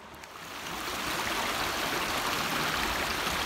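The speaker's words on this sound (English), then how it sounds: "I hope you can hear me over the rushing water." Rushing water of a forest stream, a broad steady roar and hiss that swells within the first second and then holds loud and constant, close by and with no voices.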